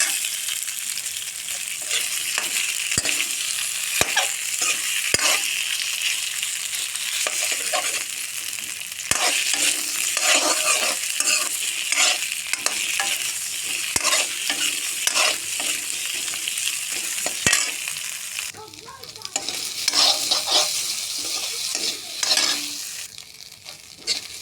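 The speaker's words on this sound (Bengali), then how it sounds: "হালকা করে আলু ভেজে নিলাম।" Potatoes fry lightly in a pan for a pumpkin-stem and bori recipe, with a steady loud sizzle and scraping stir strokes throughout and no talking.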